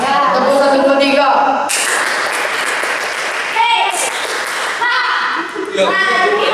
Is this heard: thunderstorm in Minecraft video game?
no